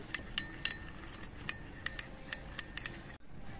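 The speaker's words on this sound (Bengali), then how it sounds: "এবার নুন দিয়ে জলটাকে গুলিয়ে নিচ্ছি।" A spoon clinks repeatedly against a bowl while stirring salt into a little water, light quick taps in an irregular rhythm, close and fairly quiet.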